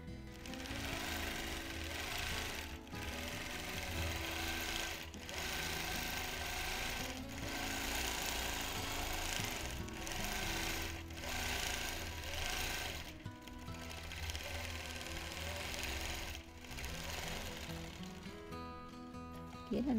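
A vintage Gem sewing machine whirs close by in a long continuous run, stitching down a fabric pleat, with brief dips in speed every couple of seconds.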